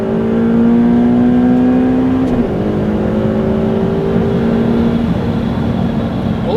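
A Ferrari 488 Pista pulls hard on the Nürburgring during break-in, its engine note rising loud and close from inside the car, then dropping at a sharp gear change before climbing again.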